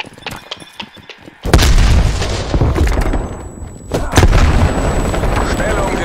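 A grenade blast in the shooter game Call of Duty: Black Ops Cold War hits as a sudden loud boom, followed by sustained rumbling battle noise and a second heavy impact, with faint game voice lines in the mix.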